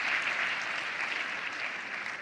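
Audience applause at a francophone talk event, steady dense clapping from a crowd filling the whole stretch without pause, no voices over it.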